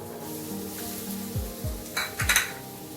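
Diced capsicum and onion sautéing for prawns chilli, a steady pan sizzle with a few low scraping stirs and light clinks of a utensil against the pan toward the end.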